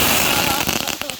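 Backyard consumer fireworks burst and crackle in a dense, loud rush of pops that thins out over about a second, with voices faintly mixed in.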